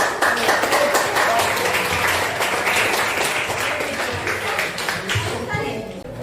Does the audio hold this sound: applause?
yes